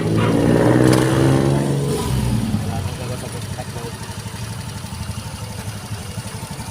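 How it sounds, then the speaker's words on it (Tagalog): A motorcycle fitted with a new pulley set runs loud and close, surging at first and then settling into a steady idle with a rapid, even putter, and a voice talks over the start. "So muna sa resulta sa ito tingog sa itong motor guys."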